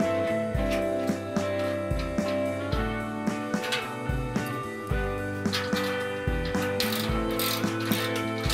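A ratchet clicks in quick repeated bursts, close and loud, tightening nuts that hold the ramp handle on an SC500-AF aluminum folding mobility carrier, with steady metallic ticking throughout and no talk.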